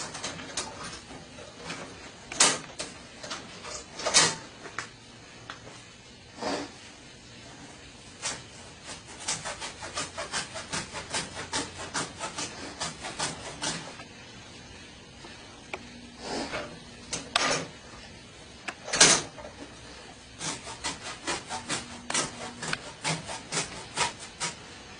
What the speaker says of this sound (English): both the saws will work for cutting some rope, at least this stuff